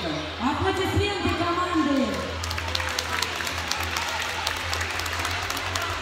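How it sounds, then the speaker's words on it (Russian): Applause from a crowd greeting a team at an awards ceremony, steady scattered clapping running under a voice and other talk, fairly faint and even throughout. "Аплодисменты"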